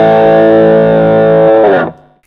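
An electric guitar with a single-coil pickup runs through two distortion pedals engaged at once, a loud, thick sustained chord ringing out with rich harmonics before it is cut off and fades to silence.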